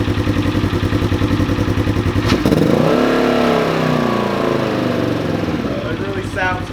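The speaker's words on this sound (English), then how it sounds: "let me go ahead and start it up. You guys can hear it real quick." A Polaris Ranger XP 1000 UTV with a modified, deeper-toned exhaust idles steadily and loudly up close, with a brief rev partway through, then settles back to a low rumble.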